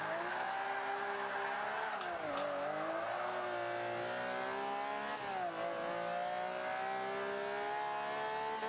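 A race car in Forza 5 accelerates hard, its engine note climbing steadily through the gears with brief dips at shifts, loud and continuous with no talk.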